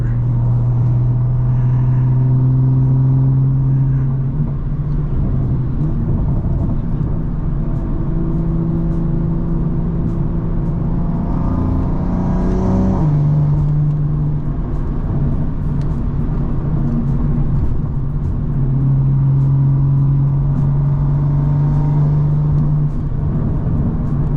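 A tuned 700-whp BMW M340i driving on the road, its engine droning steadily inside the cabin, holding a low hum that rises in pitch around mid-clip, drops back, then settles into a constant cruise tone.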